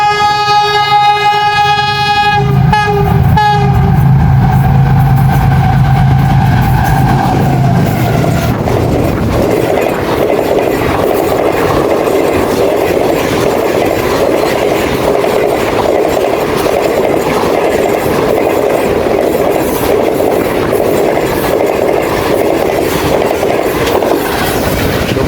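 A Pakistan Railways Green Line train sounds a long horn, then rolls past close and loud with a steady rumble and rhythmic clatter of wheels over rail joints for the rest of the passage.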